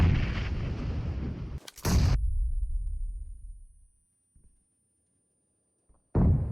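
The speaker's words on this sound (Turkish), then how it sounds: "Elli tane bomba attı ya." Grenade explosions from the PUBG Mobile video game: loud, dense booming blasts, a sharp heavy burst near the middle that rumbles away into silence, then another sudden blast at the end.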